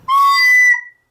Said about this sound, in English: If you use that kind of air on your recorder, it's going to sound like this.